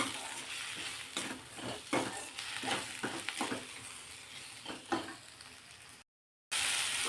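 A spice paste of red and green chilies sautés and sizzles in a pan, with steady frying hiss broken by a series of stirring scrapes, close and fairly quiet.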